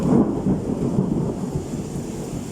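Deep thunder rumbles close and low during a heavy rainstorm, a continuous rolling boom that fades slightly over a couple of seconds.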